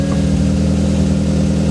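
A Ford Focus ST's swapped built engine idles loudly and steadily close by, a constant low hum with a slight throb and no change in pitch.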